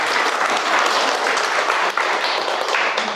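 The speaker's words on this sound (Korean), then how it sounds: "늘 준비하시느라 고생하시는 우리 봉사자님을 위해서 박수" Steady, loud applause from a parish audience thanking the volunteers who prepared snacks, a dense continuous wash of many hands clapping close by for several seconds.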